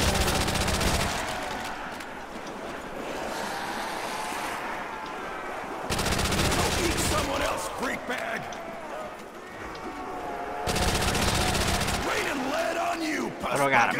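Rapid gunfire from an assault rifle in a Warzone custom zombies video game, bursts of shots repeating in loud clusters over a busy game soundscape.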